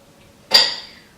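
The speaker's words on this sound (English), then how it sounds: "Might as well put the dishes away." A single sharp clatter of dishes and cutlery being set down, with a bright ringing tail that fades over half a second in a quiet room.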